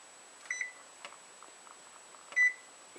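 A kitchen timer gives a few faint electronic beeps as it is set during baking, two short tones about two seconds apart with light tapping between them, in a quiet room with a steady high hum.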